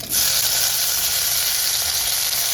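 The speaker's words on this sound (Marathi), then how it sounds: "असं लसूण लालसर झाला की कढीपत्ता टाकायचा. आता टोमॅटो टाकून घेऊया." Tomatoes go into hot oil with garlic and curry leaves in a varan tempering, producing a loud, bright, continuous hiss of sizzling that starts sharply and holds steady nearby with no voices.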